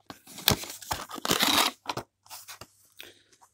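Packaging of 1/72 scale Napoleonic figurines is torn open by hand, with a close series of sharp rips, crinkling plastic and papery crunches coming in bursts, alone without talk.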